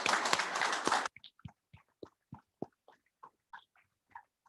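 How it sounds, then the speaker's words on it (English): An audience at a police academy graduation ceremony applauds in a dense, loud burst of clapping that lasts about a second and stops abruptly, followed by scattered faint clicks and taps. "Give yourself a round of applause."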